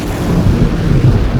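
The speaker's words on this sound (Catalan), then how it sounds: "De cop i volta, un llamp." A lightning strike crashes into an apple tree in a garden during a storm, giving a loud, close, sustained rumble of thunder that rolls on without a break.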